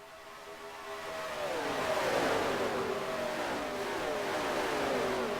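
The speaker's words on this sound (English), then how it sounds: "You can hear those engines just singing steady." Racing truck engines at an Atlanta truck race drone and rise in pitch together as a pack passes, a steady mid-distance roar swelling and sustaining without talk.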